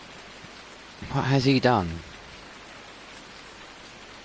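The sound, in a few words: rain in the video game Farming Simulator 19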